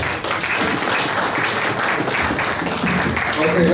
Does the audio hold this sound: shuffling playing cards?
no